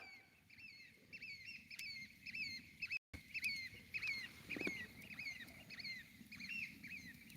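Two pet birds on an island chirp in repeated short, rising calls, a rapid patterned chatter running throughout with a brief cut near the middle.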